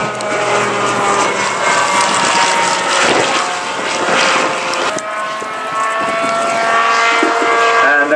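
An Optica light aircraft with a panoramic cockpit flies past at the Old Warden airshow, its loud propeller engine droning steadily with rising and falling tones, close and continuous, with no clear talking.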